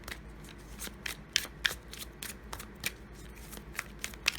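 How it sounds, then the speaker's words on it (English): A deck of slick tarot cards shuffled by hand, giving repeated crisp riffling bursts in an uneven rhythm, close and fairly quiet, with no talk. "I'm going to try to get these shuffled properly"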